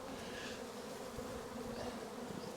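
A steady, dense buzz of honey bees swarming close by, continuous and even throughout with no talking.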